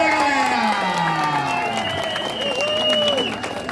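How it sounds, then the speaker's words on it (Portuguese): A crowd applauds and cheers steadily at a race podium ceremony, with whoops and high shouts rising over continuous clapping throughout. "Recebam os aplausos da"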